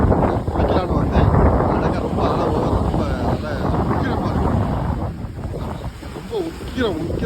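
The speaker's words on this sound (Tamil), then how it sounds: "உக்கிரமாக அலை வருது." Strong sea waves at a beach resort give a steady, loud roar. Heavy wind buffets the microphone throughout, and no distinct single breakers stand out.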